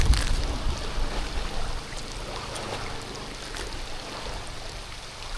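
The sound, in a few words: rain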